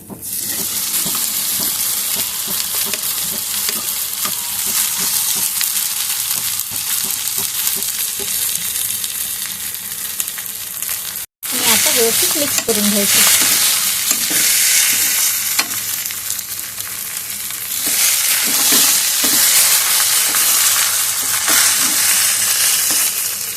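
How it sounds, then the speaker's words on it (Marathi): Potatoes being stirred into a hot pan of vada pav filling with red chili powder, a steady loud frying sizzle with repeated scraping stir strokes throughout, briefly cut off near the middle and then resuming. "मिक्स करायचं संपूर्ण बटाटे टाकायचे आता"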